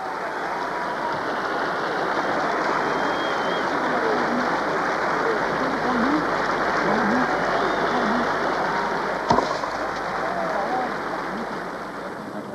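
A packed stadium crowd at Roland Garros 1992 gives steady, dense applause that fills the whole stretch like heavy rain, with no break.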